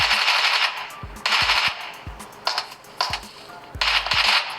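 Gunfire in the PUBG Mobile game, played on an Infinix Note 30 VIP phone: five or six short bursts of automatic shots with brief pauses between them, loud and close.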